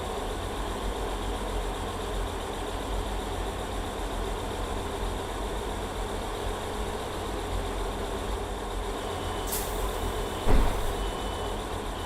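Class 165 diesel train in Train Sim World 4, a steady engine drone and rumble at an even level, with a brief sharp click near the end.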